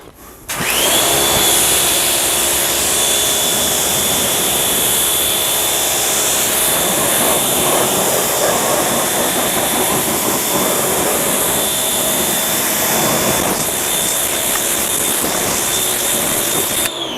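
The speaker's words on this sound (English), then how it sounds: "now we're gonna go ahead and rinse that away again" A water spray rinses a car wheel during detailing, giving a loud, continuous hissing rush that stays unbroken for the whole stretch.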